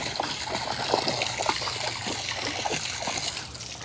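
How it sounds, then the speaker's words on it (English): A garden hose watering spring garden plants and roses, a steady close spray and trickle of water splashing onto leaves and soil, continuous and unbroken with no voices. "let me start watering"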